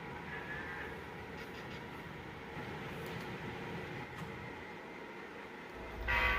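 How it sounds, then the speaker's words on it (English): Diesel locomotive pulling two boxcars along a railroad track, a steady low rumble throughout with a brief louder horn-like burst near the end. "Now that our locomotive has now ran around the two boxcars, it is now going to pull it up to the other track feeder"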